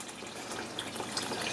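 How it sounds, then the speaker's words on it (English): Water pours steadily into a cooking pot of beans for a vegan Persian ash reshteh soup, a soft continuous splashing rush heard close and alone. "And then I'm going to add a bunch of water on top of it."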